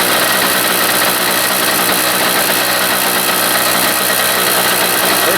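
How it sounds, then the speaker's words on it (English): A Harbor Freight generator engine, recently fitted with a homemade head gasket, runs loud and close in a continuous steady drone with a rough, buzzing texture. "Restoration of the Harbor Freight generator."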